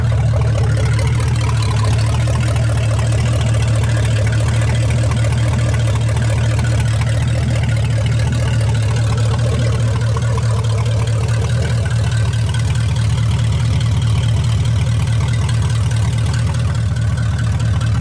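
A 1956 Studebaker Golden Hawk, run for the first time in fifty years, idles after a cold start with a steady, deep, even engine drone that holds unchanged and close throughout, with no talking.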